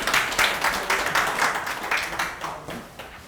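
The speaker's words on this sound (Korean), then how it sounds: "큰 박수로 환영해 주시기 바랍니다" Audience at a Jeju academic society conference welcoming a keynote speaker, the director of the National Institute of Meteorological Sciences. A moderate room of people claps in a loose rhythm that pulses, then tapers off over about three seconds.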